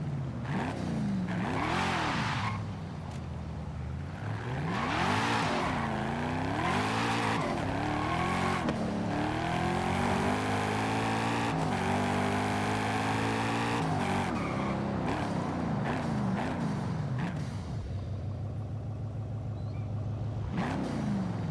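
A Ford Coyote V8 in Forza Horizon 5 revs up and down repeatedly, rising through the gears with a loud, throaty growl and brief tire squeal, close and continuous, before settling to a lower drone at the end.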